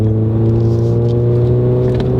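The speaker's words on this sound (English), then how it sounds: "It does not take long for the turbo to kick in because it is a fairly small turbo" A 2015 Volkswagen GTI with a small turbocharged engine pulls under acceleration, a steady loud cabin drone and rumble with a faint turbo whir, heard close and without talk.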